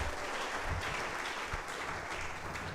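A church congregation claps steadily and densely throughout, a continuous wash of applause at moderate distance with no talking.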